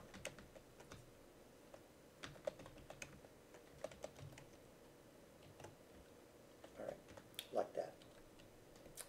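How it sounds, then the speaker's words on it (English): Typing on a computer keyboard during a programming lecture: quiet, steady key clicks at an irregular rhythm, clustering into a louder flurry near the end, with a faint room hum beneath. "my typing."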